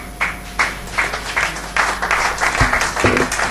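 Audience applause welcoming debate team speakers to the dais at a 2014 debate event, a bursty round of clapping that swells in waves with a few sharper claps, fairly close and moderately loud throughout.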